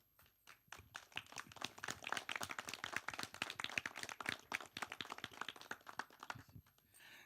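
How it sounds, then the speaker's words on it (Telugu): A live audience at a Telugu TV show thank-you meet claps together in a dense, sustained burst of applause lasting several seconds, with no speech over it. "ఒక్కసారి అందరూ క్లాప్స్ కొట్టండి"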